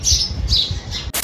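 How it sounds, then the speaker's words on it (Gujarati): Sparrows chirp close by in a loud, lively burst of three quick, sharp calls, with no talking. "એટલી મસ્ત અવાજ કરતા હોય ચકલા."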